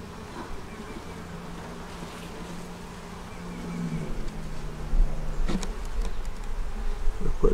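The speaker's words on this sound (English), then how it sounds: "Now we're going to put this box down here with these bees." Honey bees buzz around a deep eight-frame hive box, a continuous insect drone that swells louder near the end, with scattered handling knocks and bumps.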